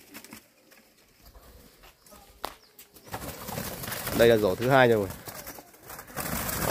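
Young turtle doves thrash and flap their wings in a basket while a keeper handles them, loud close flurries of wing beats and patter, with someone talking over the commotion.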